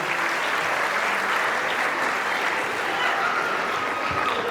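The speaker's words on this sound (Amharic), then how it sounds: "በደንብ አጨብጭቡላቸው።" Audience at a kindergarten (UKG) graduation ceremony in Dire Dawa gives sustained applause, a loud, even wash of many hands clapping with no break and no talk.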